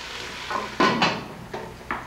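A spoon scrapes and clinks against a pot of simmering food while cooking in a cave, several short strokes close up at an irregular pace, with a bit of sizzle between them and no talking.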